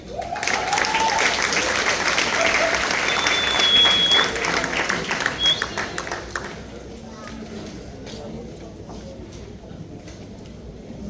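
Dense audience applause at a creator alliance event, loud and sustained for several seconds before thinning out into scattered claps and crowd noise.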